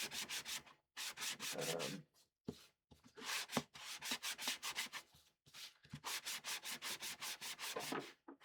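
Sandpaper on a sanding block rubbing back and forth in repeated quick strokes, close and fairly quiet, broken by short pauses.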